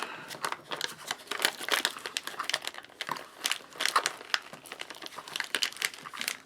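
An MRE pouch from a Slovenian ration is folded over after water goes in, giving a run of close, steady crinkling and rustling of foil-laminate packaging for several seconds.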